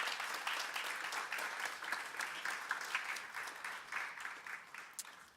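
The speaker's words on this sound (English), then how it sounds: "Give her a round of applause." Steady applause from an audience at a 2016 student government induction ceremony, continuous dense clapping at moderate distance with no talking.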